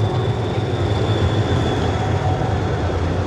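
A Rheinbahn tram rolling past on a Düsseldorf street, a steady low rumble of wheels on rail with a faint high whine held throughout, close and continuous with no voices.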